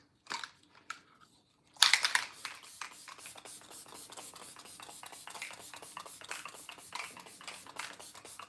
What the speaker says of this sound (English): I'm going to set it with a matte finish spray to lock everything in.